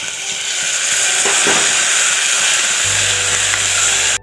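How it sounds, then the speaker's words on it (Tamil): Chopped tomatoes sautéing in a pan with a little turmeric for rasam, a steady loud sizzle with occasional scraping stir sounds, alone throughout before cutting off abruptly. "நம்ம தக்காளி சேர்த்து வதக்கலாங்க"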